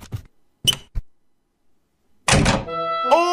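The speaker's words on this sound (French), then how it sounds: "C'est qui a tapé à la porte là?" Knocking on a door in an animated cartoon: a few separate dull thunks, loud and close, followed by a pause and then a cartoonish tonal sound effect.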